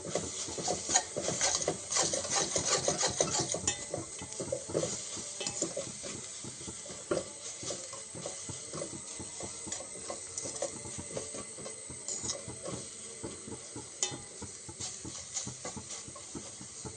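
Spinach thoran is stirred with a ground paste of coconut, cumin and chili, giving repeated soft scraping and rubbing strokes with a faint sizzle underneath, close and fairly quiet, with no one speaking.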